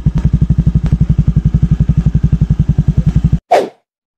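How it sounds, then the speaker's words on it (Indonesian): A motorcycle engine labours up a steep hill, its close, loud exhaust beating out a steady rapid chug before cutting off abruptly into a brief whooshing rush. "Kalau motor ini kuat nanjak, gua ntar sampai pos 1."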